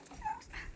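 A dog lets out a brief, faint whimper, a single soft high whine lasting under a second with no talk over it.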